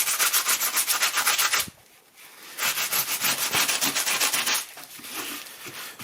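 Coarse 80-grit sandpaper rubbed over a small red patina painted surface, loud close rhythmic scraping strokes in two long bursts separated by a short pause, with no talking.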